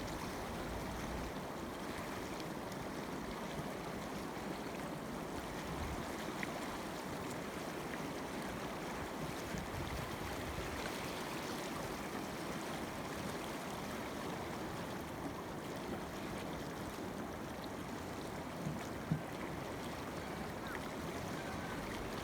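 Solo canoe paddled through small current spots on an urban river in Bend, with steady rushing water and wash filling the scene, light wind buffeting the microphone, and faint paddle splashes mixed into the flow.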